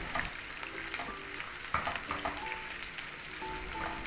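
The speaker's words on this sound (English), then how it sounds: "We cook them first for like 5 minutes before we add in the potatoes." Chopped onions sizzle and crackle steadily in a hot pan, getting a head start before potatoes go in for a Spanish omelette, with occasional scrapes and clatter from stirring, close and continuous.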